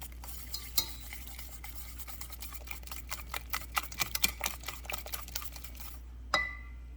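Quick, uneven clicking of a whisk against a bowl, mixing puff pancake batter by hand at close range over a low steady hum.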